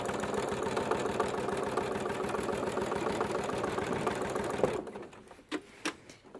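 A sewing machine stitches in a fast, steady mechanical chatter during free motion quilting, then stops abruptly, followed by a few sharp clicks and light handling taps.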